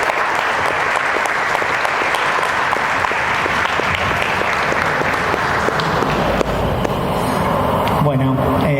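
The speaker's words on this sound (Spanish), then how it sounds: "Un aplauso fuerte para la presentación de En la niebla de la conspiración de los fuleros" Audience applause at a book presentation at the Santa Fe book fair, 2022: loud, sustained clapping from a crowd, with voices mixed in and fading toward the end.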